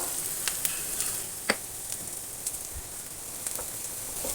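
Vegetables for egg fried rice stir-fried with salt in a pan over a high flame give a steady, soft sizzle, with light scraping clicks from stirring scattered throughout.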